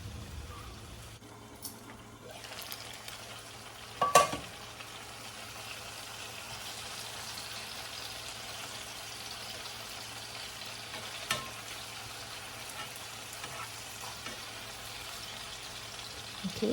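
Adobo meat frying in a little cooking oil, a steady close sizzle running under the whole stretch with a couple of brief clatters of a utensil stirring in the pan.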